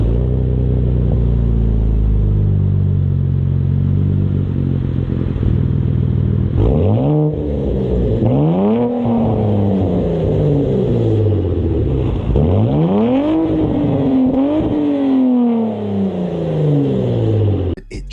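A Cadillac engine revs and the car drives off, loud rising and falling engine pitch sweeping up and down through several gear changes, close and alone with no talk.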